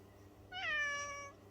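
A single clear cat meow sound effect, rising then falling in pitch, lasting under a second, clean and alone against a quiet background.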